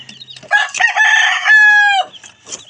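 A rooster crows loudly up close in one long drawn-out call, with a few short clucks from chickens before and after.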